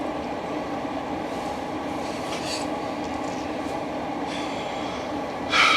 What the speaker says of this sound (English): I'm stopped right now because I got a train going across the tracks